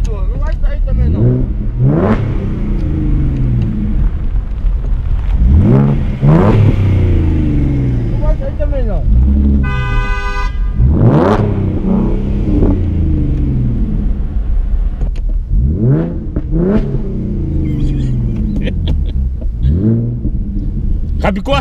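A Ford Mustang's engine rumbles and revs low beneath loud, excited talking among several people, the motor sound steady and close throughout.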